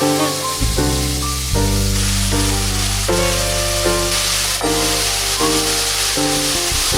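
Cabbage, courgette, peppers and baby corn fry in a pan with a steady, close hiss of sizzling, partly masked by music playing over it.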